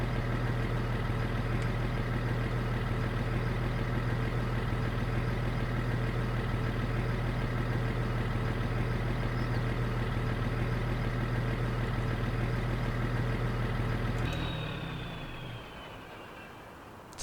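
A Lizard 1228 tractor engine idles in a steady, even drone for about fourteen seconds, then shuts off and winds down quickly into near silence.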